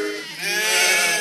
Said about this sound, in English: Listen to those sheep.